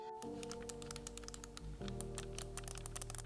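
Scuf Envision Pro controller buttons clicked rapidly, a dense run of sharp, close, fairly quiet clicks over a steady low hum.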